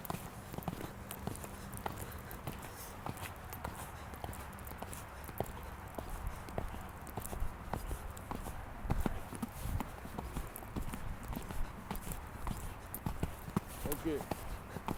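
Horse hooves clop steadily at a walking rhythm on soft arena ground during a riding lesson, fairly faint, while a person talks over them.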